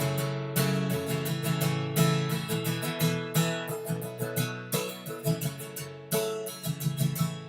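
An acoustic guitar is strummed in a rhythm pattern, with bright, close, syncopated down-and-up strokes forming a steady, repeating groove and no voices over it.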